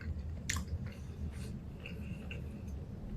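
Crunchy Lay's Salsa Fresca chips with crushed Fritos being chewed up close, a few crisp crunches early on followed by softer, moist chewing, with no talk.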